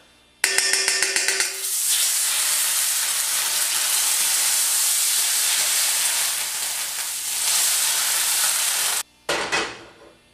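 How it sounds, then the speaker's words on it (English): A tablespoon of Benecol spread melts in a hot pan for a veggie omelette. A loud, steady sizzling hiss runs close by for most of the clip, then cuts off briefly before sputtering again. "we're going to take about a tablespoon of the Benecol, and we're just going to melt it in the pan."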